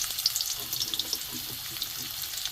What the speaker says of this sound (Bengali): এখানে আলুগুলো দিয়ে দেবো